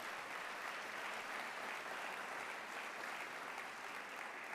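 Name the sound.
audience applause at convocation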